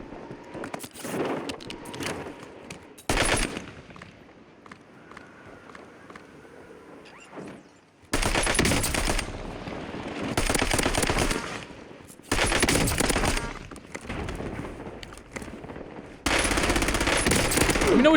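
XMR rifle gunfire in Call of Duty on Rebirth Island, loud sustained bursts of shots between quieter stretches of game noise, no speech.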